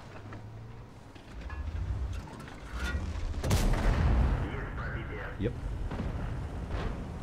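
Tank gun firing in the World of Tanks video game, a deep booming blast midway through that swells and rumbles off, with lesser thumps around it and a short spoken word over the game sounds.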